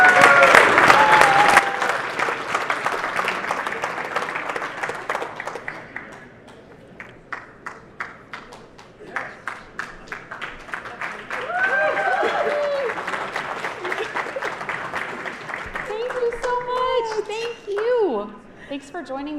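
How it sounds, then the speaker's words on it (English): Audience at an award ceremony applauding loudly at first, the clapping fading over a few seconds into scattered claps, crowd murmur and children's voices, with some talk. "So please give a round of applause for Niara Borzi from Unifor."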